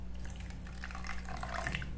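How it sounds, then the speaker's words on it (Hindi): A little water trickles into a semolina and yogurt batter, giving a soft, steady dripping pour close by that runs alone, without talk, for about two seconds. "हल्का सा पानी डालेंगे"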